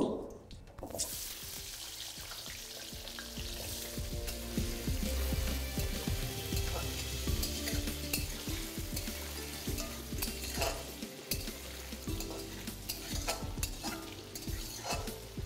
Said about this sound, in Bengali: এবার এই একই তেলের মধ্যে আমি এখানে আলুটাকেও ভেজে নেব